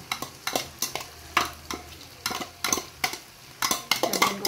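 Hotdog and carrot pieces are stirred in a pan of rendered pork fat, with repeated scraping utensil strokes and clinks over a steady sizzle, close and fairly loud, without talk.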